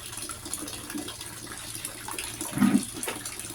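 Water splashes and pours while a dog named Morong is bathed, a continuous wet gush with a brief louder burst near the end.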